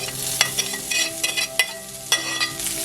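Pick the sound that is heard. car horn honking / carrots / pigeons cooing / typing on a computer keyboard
carrots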